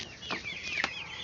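A hen, after laying an egg, gives two short, sharp clucks close by over a quiet background.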